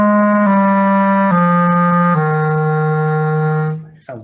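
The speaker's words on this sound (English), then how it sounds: "when we're playing down low like this, we want to use fast, light fingers in order to make the note sound clean" Low clarinet notes played with quick, light fingering, a clean descending line of four sustained tones stepping down in pitch, close and loud, ending with a brief release.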